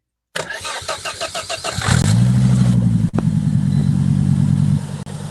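A Volvo engine cranks with a rapid rhythmic starter whir, catches after about a second and a half, revs up, then settles into a loud, steady idle with one brief dip.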